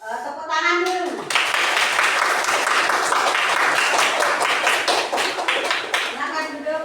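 Classroom applause for a student group's presentation, a dense burst of many hands clapping that starts abruptly after a brief spoken line and holds steady for several seconds before thinning out as talking resumes at the end.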